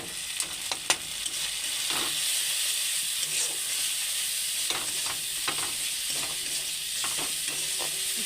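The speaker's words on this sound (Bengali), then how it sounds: "ভালো করে নাড়িয়ে চাড়িয়ে নেবো একটু।" Salt, turmeric, cumin powder and chilli powder fry with onions in a hot pan, a constant sizzling hiss punctuated by intermittent scraping strokes of the stirring spoon, close by and unaccompanied by speech.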